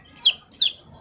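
A twelve-week-old Brahma chick gives two short, high-pitched clucking calls close by, evenly spaced, with quiet between them.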